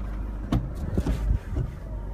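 A 2008 Autosleeper Mezan camper motorhome engine idles just after starting, giving a steady low rumble with a few soft knocks and clicks on top and no one talking.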